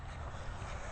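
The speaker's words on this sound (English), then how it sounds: "The wind just makes everything colder." Strong wind gusting outdoors on a cold winter day near a windmill, a steady broadband rush with heavy low rumble across the whole second, no voices.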